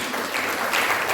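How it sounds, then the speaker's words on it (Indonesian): Church congregation applause at a revival service at GBI Kupang Praise Center, a short burst of brisk clapping at moderate level, heard alone. "Tepuk tangan dong."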